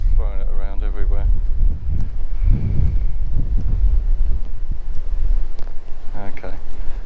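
Gusty wind buffets the microphone outdoors near Belas Knap long barrow by Winchcombe, a continuous low rumble throughout, with someone talking over it at the start and end.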